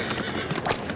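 Horse hooves clip-clopping under a busy, dense mix of noise as a horse-drawn stagecoach draws near in a Wild West setting, with a faint whinny-like rise partway through.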